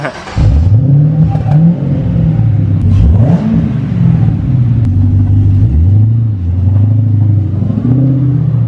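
A GM LSA V8 engine swapped into a Porsche 911 Carrera cranks and fires up close by, then revs hard several times with throaty, rising and falling bursts before settling into a loud rumbling idle.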